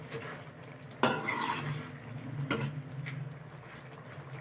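A spoon mixes achari potatoes with capsicum, pickle and lemon juice in a cooking pot, making a sharp scrape and clatter followed by ongoing wet, scraping stirring strokes close by.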